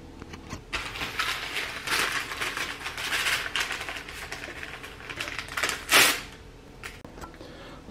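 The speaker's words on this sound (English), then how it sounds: "So we're about to rip these open and put it together." Breakfast food packets are ripped open close by: a run of crinkly tearing and rustling plastic, with one louder sharp rip near the end, no talk.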